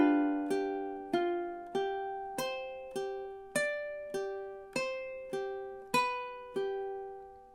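Ukulele strummed through two measures of the Hawaiian song "Loke Lani" in a triplet strum, with about a dozen evenly spaced bright chord strokes ringing out clearly, each decaying before the next, with no voice.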